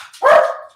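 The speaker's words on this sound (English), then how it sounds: "My dog. You hear that?" A dog barks once, a single sharp, close bark with a short tail, standing alone.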